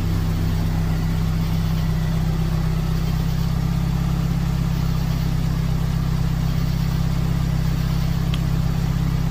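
A supercharged 4AGZE engine swapped into a 1987 Toyota MR2 idles steadily, a loud, constant low rumble running unbroken with no revving and no talk.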